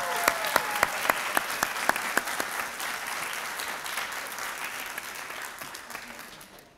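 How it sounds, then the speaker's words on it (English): Audience applause at a graduation ceremony, a dense wash of clapping from a sizable crowd with a few sharp individual claps standing out early, then slowly fading toward the end. "Let's give him a big round of applause."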